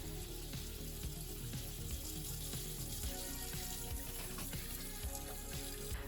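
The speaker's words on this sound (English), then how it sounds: "Add dish soap to the air fryer basket and pour hot water into it." Hot water pours and splashes steadily into an air fryer basket with dish soap, a continuous close gushing wash with no voices.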